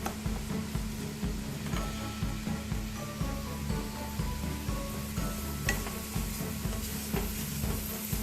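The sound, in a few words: masala spices being stirred and fried in a kadai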